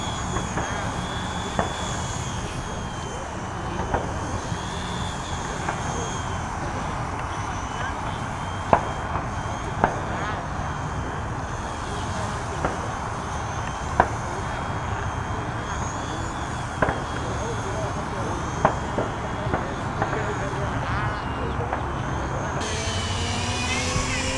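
A palm-sized Xieda four-channel RC helicopter hovers outdoors in gusty wind, its steady rotor whine and buzz running continuously throughout with wind noise, and a person speaks occasionally.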